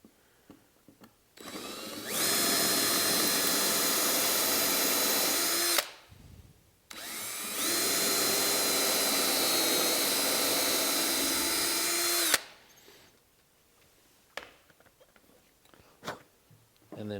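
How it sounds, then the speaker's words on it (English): A power drill whirs loudly in two long bursts of about four and six seconds, with a short pause between them, drilling a pilot hole into wood. "I'm going to pilot drill it."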